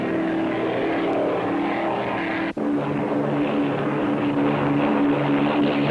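A loud, steady roar of a 1975 offshore racing powerboat engine on San Francisco Bay, constant and close, with a brief dropout midway before the droning resumes.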